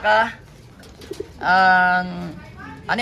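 Grizzle racing pigeon cooing up close in a loft, two loud drawn-out coos separated by a quieter pause, with soft rustling and another coo starting at the end.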